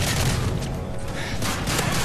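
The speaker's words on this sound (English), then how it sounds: "I'm getting shot like hell" Dense, sustained gunfire from Modern Warfare 3 Spec Ops, a sentry gun firing at the player, loud and continuous for about two seconds with rapid overlapping shots and booms.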